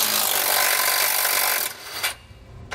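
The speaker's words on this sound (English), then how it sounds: "we're just going to use our 9/16 socket to remove the nut" A 9/16 socket removes the nut from a carriage bolt on a replacement Stromberg Carlson landing gear leg of a 2017 Starcraft Sol camper, giving a close, steady rasping grind for under two seconds, then a few short scrapes.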